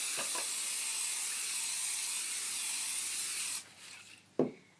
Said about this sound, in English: I'm going to spray our pan with Pam, or any cooking spray